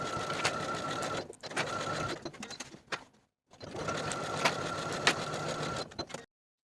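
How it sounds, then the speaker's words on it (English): A sewing machine stitching pockets onto vest pieces runs in steady, fast bursts, pausing briefly midway before resuming at the same even pace. "take these to the sewing machine and sew the pockets in place from top to bottom"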